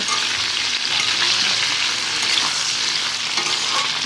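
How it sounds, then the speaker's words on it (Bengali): Vegetables for Bengali sukto fry in a pan while being stirred, a loud, continuous close-up sizzle with no pauses. "দেখো সবজিগুলো কিন্তু আমি দিয়ে দিয়েছি, এবার ভালো করে নাড়িয়ে নেব।"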